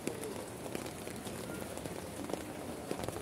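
Rain falls steadily onto ground with standing water, a faint continuous patter with scattered sharper drops, distant and quiet throughout.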